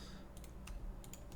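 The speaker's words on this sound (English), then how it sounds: "I'm gonna hit 4 on the keyboard so I can match that up." Clicky taps on a computer keyboard while modeling a watch case in Maya, a short burst of five or six distinct close keystrokes at uneven spacing over a faint steady hum, no speech.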